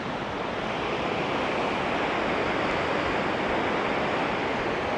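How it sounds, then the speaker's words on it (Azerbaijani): Waterfall complex at Si Phan Don, Laos, rushing in a constant broad hiss and roar of water, steady and fairly loud, without voices, with some wind buffeting on the microphone. "Buradan da bir şəlalə kompleksi var."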